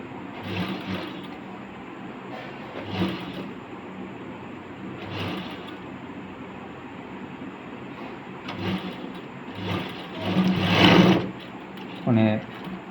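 Sewing machine running a straight seam along the upper neckline of a lined blouse, its motor buzzing in short bursts of stitching with pauses between, moderately loud.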